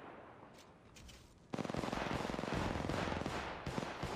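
Gunfire in the mobile battle royale game Apex Legends Mobile: after a quieter stretch, a dense burst of rapid automatic shots erupts and continues as loud, fast, rattling fire to the end.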